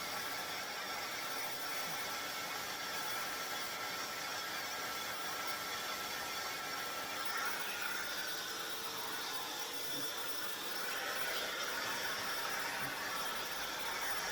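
A hair dryer fitted with a diffuser blows steadily while curls are dried for volume, a continuous close airy hiss and whir holding level throughout with no talking.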